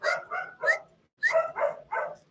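A puppy barks in two quick bursts of three yips each, close and clear, separated by a brief pause in an otherwise quiet room.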